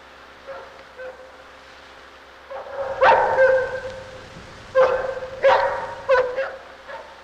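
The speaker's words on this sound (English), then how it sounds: "Poor little dog." A small dog barking and yipping in a laboratory, a few faint yelps at first, then several loud, close barks in irregular bursts with whimpering between.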